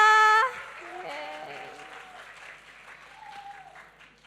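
Lively applause from a school Easter gathering audience, a dense wash of clapping that follows a brief loud burst at the start and carries on steadily, with some tonal sound faintly underneath.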